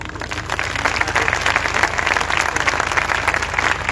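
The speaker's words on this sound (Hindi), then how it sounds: "खुदा की खादमा को, कलाम को वेलकम करें तालियों से" Steady applause from a congregation at a live worship gathering in Peshawar, Pakistan, welcoming a speaker, a continuous mass of clapping at moderate loudness over a low background hum, without talk.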